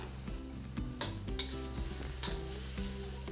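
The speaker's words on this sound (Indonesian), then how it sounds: "Kita tumis dulu sampai dengan setengah matang" Carrots for capcay are stir-fried in a wok with a busy sizzle. Repeated scrapes and rattles of the spatula come close and fairly loud, over a droning hum with a tonal, music-like quality. No one talks.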